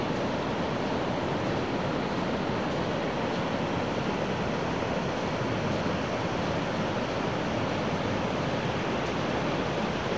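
Ocean surf on the Northwest coast at low tide, a dense continuous roar of breaking waves with wind noise on the microphone, steady and loud throughout with no voices.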